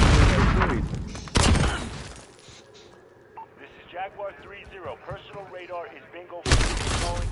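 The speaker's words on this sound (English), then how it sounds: "They're throwing grenades." Grenade blasts and heavy gunfire from Call of Duty on PS5 hit in loud, dense bursts at the start and again at the end, with a quieter stretch in between where someone talks over distant game sounds.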